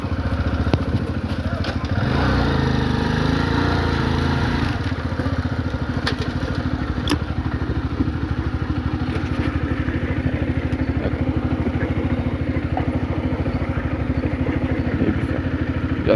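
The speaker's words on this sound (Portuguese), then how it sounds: "Tem que ligar a moto, que ele só gosta de ligar a moto" A small motorcycle idling close by with a steady pulsing putter, a brief rev early on and a few light clicks, while a voice talks faintly underneath.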